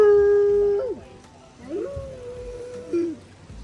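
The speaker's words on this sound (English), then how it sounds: "That looks like a husky" A husky-like dog at a petting zoo lets out a long, steady howl that bends and drops, then after a short pause howls again in a wavering, rising and falling tone, fairly close with background murmur.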